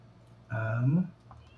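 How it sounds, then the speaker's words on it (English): A house cat gives a single short meow indoors, a rising and falling call lasting under a second, close and fairly quiet against a quiet room. "Sorry, that's our cat."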